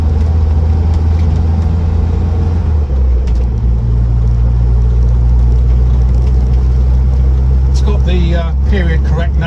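A 1966 Morris Traveller on period-correct narrow tyres drives gently along, its low engine drone and road rumble steady and loud inside the cabin, with a shift in engine note partway through and a voice speaking near the end.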